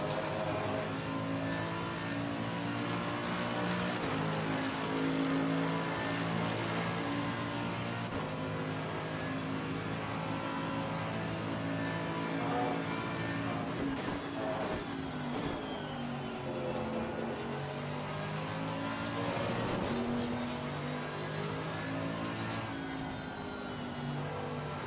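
Race car engines in the racing game Assetto Corsa Competizione, a continuous droning roar with rising and falling revs as gears shift, steady and fairly close with no talk.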